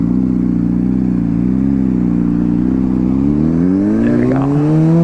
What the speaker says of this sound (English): So many cars.